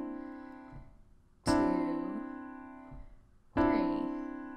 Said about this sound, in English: So if it's 3 o'clock, you would hear 3 sets of chimes,